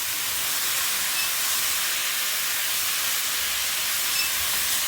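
Chicken pieces hitting hot oil for Jamaican curry chicken, producing a loud, steady hiss of sizzling that holds evenly for the whole stretch, with no voices.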